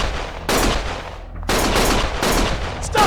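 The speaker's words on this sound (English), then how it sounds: "Stop shooting!" Rapid bursts of gunfire in the video game Lost Judgment, loud and dense, several volleys broken by short pauses with no speech.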